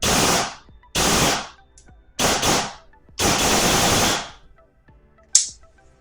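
A Tokyo Marui Next Gen recoil airsoft gun with a brushless motor fires full auto in four loud bursts of rapid buzzing shots separated by short pauses, then one brief single shot.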